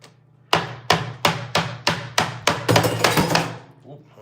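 A skirt steak is pounded with a hammer in a kitchen, about ten sharp, evenly spaced thuds that speed up into a quicker flurry near the end, close and clear.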